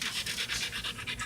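A wolf panting fast and steadily at close range, the breathy huffs coming in a quick even rhythm with no pause.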